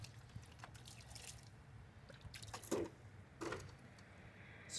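Plain water splashes onto a car wheel during cleaning, coming as scattered drips, spatters and short splashy bursts, fairly faint and close, with quieter gaps between them and no talking.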